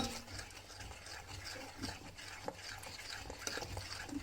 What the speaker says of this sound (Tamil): தோசை மாவு பதத்துக்கு நல்லா இப்படி மிக்ஸ் பண்ணி கலக்கிக்கோங்க